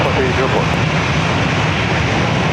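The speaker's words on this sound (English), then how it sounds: "737-700 flight heading to Denver" A Southwest Boeing 737-700 jet roars at San Diego airport, a broad steady engine rumble and hiss filling the whole span, loud and close, with radio voices faintly mixed in.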